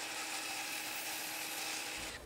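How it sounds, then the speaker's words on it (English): A miter saw with its head tilted to 30 degrees cuts plastic held in a metal drill bit set into plywood, giving a loud, steady, rough whir that stops abruptly near the end. "At the miter saw, I tilt the head to 30 degrees, slide the plastic into that drill bit embedded in the plywood,"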